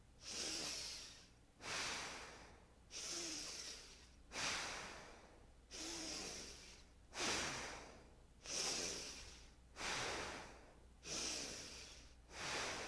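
Rapid, rhythmic yoga breathing with forceful alternating inhales and exhales, about eight even breath cycles in a steady pulse, close and clear with no talking.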